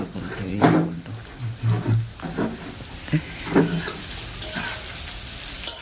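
Pointed gourd (potol) frying in a pan, a soft sizzle broken by the scrape and clatter of stirring, with occasional knocks of a utensil against the pan.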